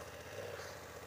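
A BMW F900XR motorcycle engine idles close by, a steady low rumble holding even for about a second with no talk.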